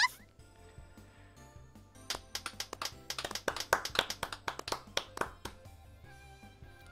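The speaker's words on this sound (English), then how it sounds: "A small round of applause echoes around the garage." A brief, light patter of clapping from a few hands in a video game breaks out over a soft electronic musical backdrop, then fades away.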